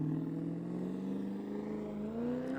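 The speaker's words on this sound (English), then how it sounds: "That's a black 1996 Mazda V8 Miata." A black 1996 Mazda Miata race car with a V8 engine, at an open road race in Halsey, Nebraska, drives past with a steady, loud engine drone that rises slightly in pitch as it goes by.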